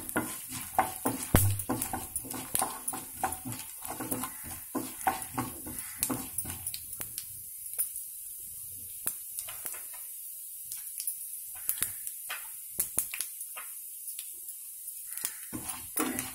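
Urad dal spluttering in hot oil in a pan, stirred with a spoon, giving frequent sharp scrapes and clicks over a soft, steady sizzle.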